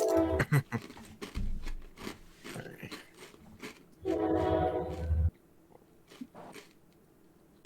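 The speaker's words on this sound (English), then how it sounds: "Train, by the way." A train goes by with a strong horn blast partway through, alongside clattering and knocking noises nearby.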